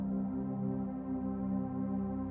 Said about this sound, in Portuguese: Esse som que você está escutando no fundo, tá vendo? Tipo um string. Esse é o pad.